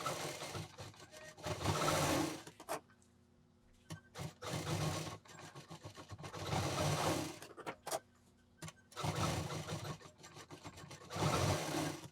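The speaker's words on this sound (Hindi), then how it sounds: "पहले सिंगल मशीन चला करके फिर दूसरा परत लगा करके और धीमी मशीन पे सिलना चाहिए" A sewing machine slowly stitches layers of leftover fabric for a travel handbag, running in several long steady whirring passes separated by short pauses and faint handling sounds.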